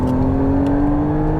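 A McLaren hybrid sports car accelerates hard, its engine holding a steady, loud droning whine from inside the cabin, with no voices over it.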